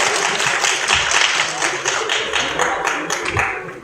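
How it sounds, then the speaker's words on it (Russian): An audience claps for itself at a comics workshop, a dense burst of applause with many overlapping hand claps that swells and thins over a few seconds. "Give yourselves a hand."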